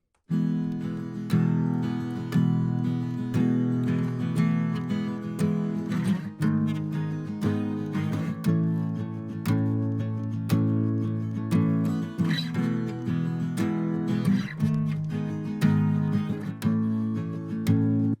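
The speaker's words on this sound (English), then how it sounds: "So altogether, these 3 guitars sound like this." Three layered acoustic guitars in an indie folk arrangement, processed with EQ, compression and Logic Space Designer reverb, strum and pick together in a full, continuous, steady passage with no voices.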